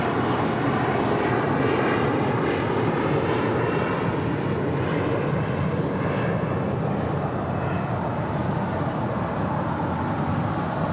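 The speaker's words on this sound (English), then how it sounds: "That's Volaris A321 heading to Guadalajara in an A321, flight 915 heading to 25 right here on the south side" A Volaris Airbus A321 airliner at LAX roars steadily and loudly for the whole stretch, a broad continuous jet engine rumble with no voices.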